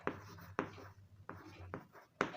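Pen scratching across paper while working a handwritten maths solution, a few quick strokes and taps spaced unevenly, close and fairly quiet, with a faint low hum beneath.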